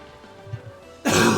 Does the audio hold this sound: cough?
yes